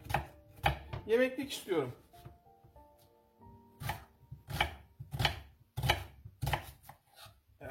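Onions are chopped on a board in quick knife strokes, with several sharp close thuds at an uneven rhythm and someone talking between and over them.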